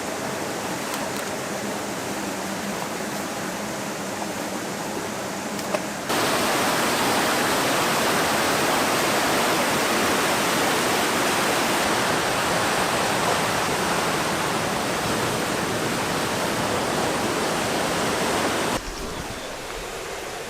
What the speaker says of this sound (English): Down there, the waterfall's right there.